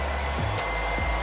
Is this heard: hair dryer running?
yes